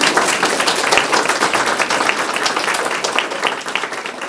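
Audience applause at a painting exhibition in Târgu Ocna, a steady dense patter of many hands clapping close by for the full length, with no voices over it.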